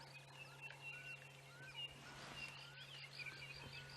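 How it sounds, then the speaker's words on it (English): Faint birds chirp and twitter in the distance, scattered calls over a quiet background hum, at sunrise in the Sabi Sand game reserve, South Africa. "I don't know if you can hear all the birds there, all chatting away in the distance."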